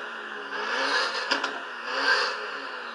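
Engine revving sound effect played from the phone app controlling a DR!FT toy car: a steady whirring drone that swells twice, with a brief clatter between the swells, moderately loud and without talk.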